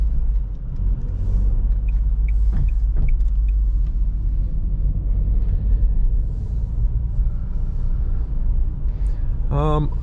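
Dacia Jogger 2023 with a 1.0 TCe 110 hp engine and six-speed manual pulling away at night, a steady low road and engine rumble throughout, with brief clicks and a short chirp near the end.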